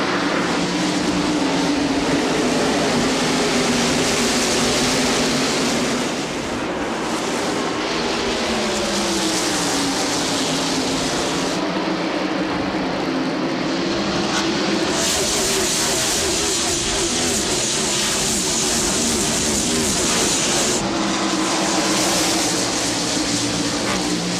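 A field of NASCAR stock cars at Bristol in 1995, racing under green in the Boot City 500, roaring loudly and steadily as a dense engine wash with rising and falling pitch sweeps, with a commentator's voice over the top.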